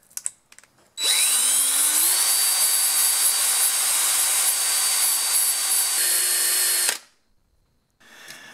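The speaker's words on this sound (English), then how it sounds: "And I've got this handy little grinding wheel," A small handheld grinding wheel spins up and grinds steadily against a metal aerosol can that once held carburetor cleaner, a loud, high, sustained whine lasting about six seconds before cutting off abruptly.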